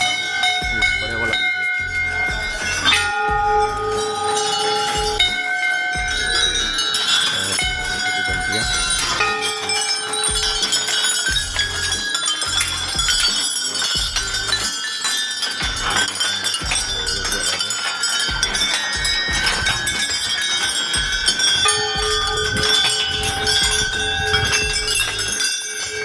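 Many temple bells on the Chopta–Tungnath trek clang and ring continuously, overlapping strikes at varied pitches, with a faint murmur of voices underneath.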